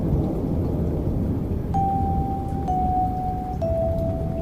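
Heavy rain pours in a dense, steady roar with a low thunder rumble beneath, while a sustained tonal chime sounds in three stepped notes over the storm.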